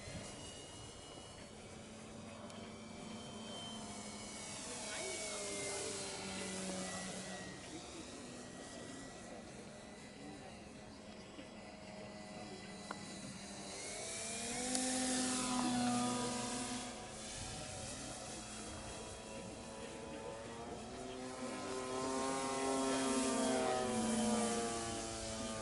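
An F4B aircraft flying laps, its engine droning continuously with rising and falling pitch sweeps as it passes, swelling louder at moments and receding, heard at a distance.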